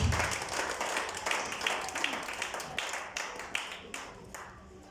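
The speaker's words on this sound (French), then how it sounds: "Acclamons pour la gloire du Seigneur" Congregation applauding in church, a dense, continuous wash of many hands clapping with a few sharper individual claps standing out near the end, fairly close and steady.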